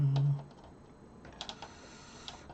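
A few sparse, light key presses on a Memotech MTX500 home computer keyboard under repair, faint and close, after a brief low hum at the start.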